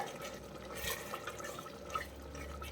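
Palak beef curry simmering in a pan with thick gravy, soft bubbling and occasional small pops over a faint, steady background, with no voices.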